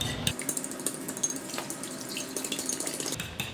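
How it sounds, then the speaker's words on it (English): Water trickling into a dish of eggs as they are being scrambled for a pork chop recipe, a faint running pour with small splashes and clinks, no speech over it. "I'm going to add a little bit of water."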